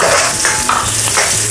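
Garlic sautéed and stirred in a pan for beef and broccoli noodles, a steady close sizzle with scraping stir strokes through its short span.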